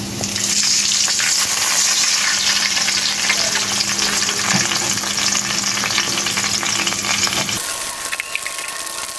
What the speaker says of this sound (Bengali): এখন আমি এখানে একটু পানি দিয়ে দিব